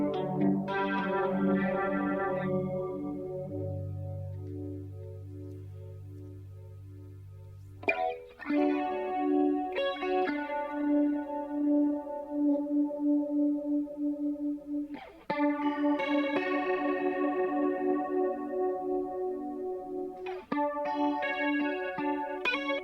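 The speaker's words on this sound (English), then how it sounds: "I love the chorus sound." Guitar played through a Chase Bliss Lost and Found multi-effects pedal with a chorus effect gives shimmering, warbling sustained chords that ring out alone, with several new strums each swelling and slowly fading.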